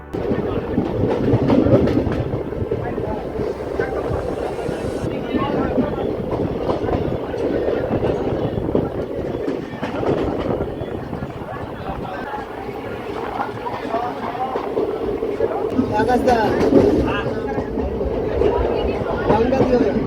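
A passenger train runs on rails through cloudy monsoon weather, heard from on board as a loud, continuous rumble with rhythmic clickety-clack from the wheels.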